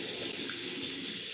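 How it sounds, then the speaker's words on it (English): Bathroom tap running steadily into a sink while a face mask is rinsed off, a continuous soft hiss of flowing water with no speech. "I'm gonna do that while I rinse this mask off"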